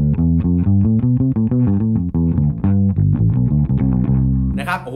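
A bass guitar through the amp modeling of a Zoom B1Xfour or B3n multi-effects pedal plays a busy run of notes with a full, amp-like tone, loud and continuous, ending with a brief noisy burst.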